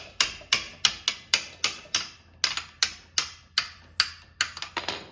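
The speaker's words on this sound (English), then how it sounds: "Now I just take a hammer and slowly tap it out." A hammer taps metal in sharp, evenly spaced strikes, about a dozen in quick succession, knocking a part loose during a minibike engine swap, close and clear with short ringing decays.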